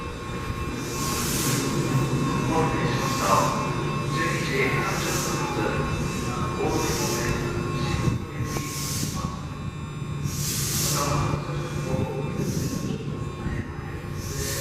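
A Sapporo subway train rumbles and whines steadily, with rhythmic clacks and hissing bursts as it rolls along; a voice speaks faintly under the noise.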